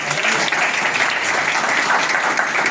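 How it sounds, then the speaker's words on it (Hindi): Loud, dense applause from an audience at a coaching class success-story event, a steady wash of clapping that fills the whole stretch without a break. "जोरदार तालियां अनुभव के लिए।"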